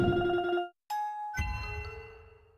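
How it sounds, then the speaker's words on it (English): Counter sound effect from the video game Boomlings: a short run of bright chiming tones, a brief gap, then a ringing ding that fades out, heard alone and fairly quiet. "RobTop's old game Boomlings has a similar sound called Counter001"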